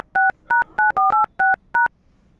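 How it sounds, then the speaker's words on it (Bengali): Telephone keypad dialing tones, seven short clear beeps in quick succession with brief gaps, loud and close with no talking. "আমি ওকে ফোন করি।"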